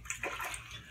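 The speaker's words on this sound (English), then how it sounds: "I'm going to rinse off the blade and put some more lather on." Tap water running steadily while a razor blade is rinsed during a wet shave, a continuous close hiss and splash with no talking.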